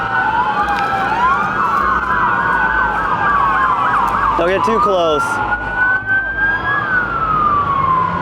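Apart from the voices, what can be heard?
emergency vehicle sirens, fire trucks and police during wildfire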